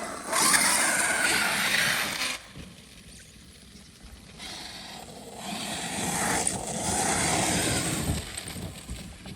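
A Traxxas X-Maxx RC truck's electric motor whines at partial throttle in loud bursts, with gravelly scraping and tire noise from the bashing, fading for a stretch in the middle before surging again.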